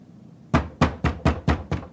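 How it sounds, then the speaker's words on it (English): Six firm thumps on a door, loud and close, evenly spaced about a quarter second apart after a brief silence, with no voices. "Give it a good thump."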